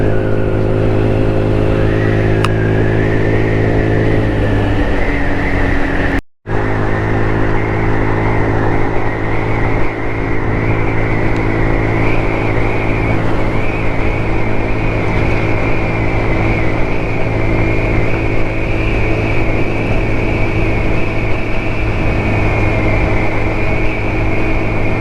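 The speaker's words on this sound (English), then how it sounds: "Scooter's idling fine." A GY6 150cc scooter engine fitted with a new exhaust idles steadily and loudly up close, a continuous droning hum with one very brief dropout partway through.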